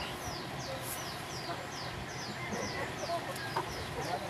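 Backyard chickens cluck and chirp in a steady, moderately faint chorus over a continuous noisy outdoor background, with a few brief louder calls near the end.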